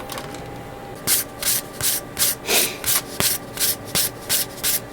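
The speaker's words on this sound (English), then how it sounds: "right now I'm in the midst of sanding down some of the parts here" Plastic Gundam model kit parts are sanded by hand in quick, rhythmic back-and-forth strokes, a dry scratchy rasp repeating about twice a second, close and fairly quiet.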